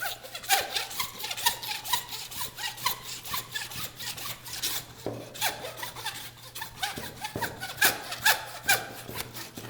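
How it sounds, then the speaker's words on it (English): A handsaw cuts through bison shank meat and bone in repeated rasping back-and-forth strokes, close and fairly quiet, with a low steady hum behind it. "It's harder to cut through the meat than it is the bone with a handsaw."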